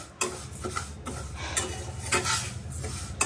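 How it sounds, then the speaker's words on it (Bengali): Lentils fry in a pan on a home kitchen stove and a utensil stirs them, giving rhythmic scraping strokes over a soft, steady sizzle at close range with no talk. "সবে আমি স্টার্ট করেছি, ডাল ভাজছি আর কি"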